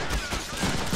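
Gunfire in a Deadpool video game: a dense, rapid burst of shots rattling continuously for about a second, loud and close, with no talking over it.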